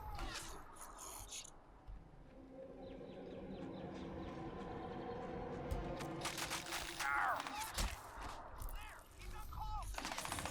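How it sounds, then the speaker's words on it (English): Enemy gunfire in Crysis 2, a dense continuous rattle of shots from several directions with sharper bursts late on, fairly close and steady throughout; no talking over it. "Getting shot from all angles at the moment."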